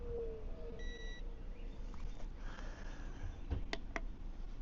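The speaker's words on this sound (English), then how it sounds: "It'll beep again when it's off." A battery-powered oscillating fan with a built-in light gives a short, clear electronic beep near the start as it is switched off, with faint clicks and steady background noise after it.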